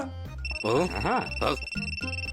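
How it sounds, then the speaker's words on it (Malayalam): A cartoon mobile phone rings with a steady, high electronic ringtone that holds through the whole stretch, while an animated character's voice talks loudly over it. "എന്റെ ഫോണാ അടിക്കുന്നത്"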